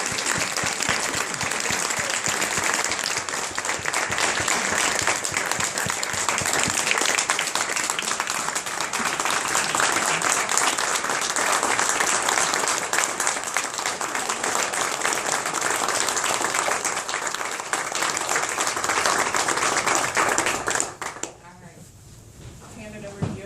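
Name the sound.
audience applause at an award ceremony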